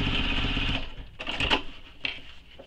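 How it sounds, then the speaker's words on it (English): A sewing machine restitches a seam on a nylon bag, running in short, close bursts of buzzing whir broken by brief pauses and a sharp click near the end. "I'm going to restitch this, line up this line here, line up the previous stitching"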